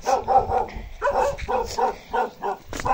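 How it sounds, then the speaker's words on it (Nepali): A dog barks repeatedly near a cement road, about eight sharp, loud barks in quick, uneven succession, close by and with no other sounds. "कुकुरले भुक्न थालिसक्यो"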